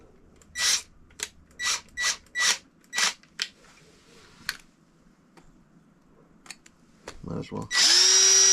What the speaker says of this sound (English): We gotta pull out the drill.